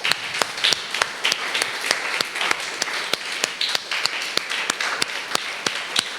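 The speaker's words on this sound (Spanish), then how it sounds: "¿Podemos darle una ofrenda de palmas al Señor?" A church congregation clapping in praise, a brisk rhythmic round of claps with sharp regular beats over a bed of scattered applause, lively and sustained.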